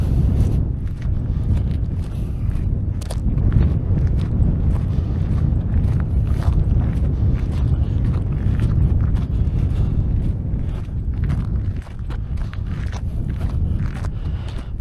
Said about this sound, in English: that's proper windy